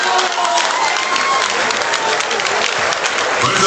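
Strong, sustained applause from a crowd at a PRI municipal committee swearing-in ceremony in Cuautlancingo, Puebla, dense and steady clapping with some cheering mixed in throughout.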